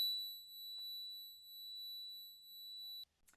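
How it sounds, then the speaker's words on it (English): A steady, piercing high-pitched tinnitus-like tone rings continuously for about three seconds, then cuts off, followed by a brief faint rustle. "I have lived with a constant high-pitched sound in my ears"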